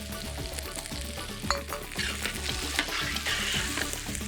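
Bamba rice cooking in a pan with dry white wine, stirred, for a grilled vegetarian dish: a steady close sizzle and bubbling with scraping stir clicks throughout, no voices.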